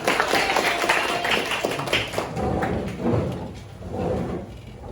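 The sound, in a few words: class clapping hands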